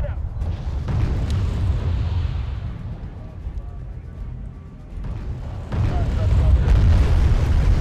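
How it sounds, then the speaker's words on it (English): Bombs dropped by a Harrier jet explode in the video game Wargame AirLand Battle, a loud rumbling blast and sustained roar of battle noise with a renewed surge near the end, while a voice talks over it. "Harrier dropping payload."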